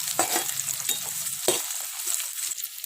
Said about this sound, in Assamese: কাটি লোৱা পিঁয়াজখিনিও মই তেলত দি দিলোঁ।